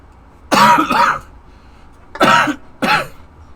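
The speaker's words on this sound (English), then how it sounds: "This cough won't go away, dude." Three loud, close coughs: a long harsh burst, a pause, then two shorter coughs in quick succession, with no talking.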